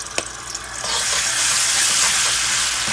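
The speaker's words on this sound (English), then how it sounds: "We're gonna allow this to fry for, I was about to say, a minute or so." Roughly chopped garlic added to Haitian epis seasoning in a hot pot, a sudden bright sizzle that swells into steady continuous frying after a brief clink, close and without talk.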